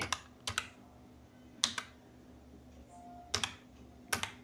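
Keys clack on a computer keyboard as a search is typed into Google in the Chrome browser, coming in quick bursts of two or three strokes with short pauses between, close up and otherwise quiet.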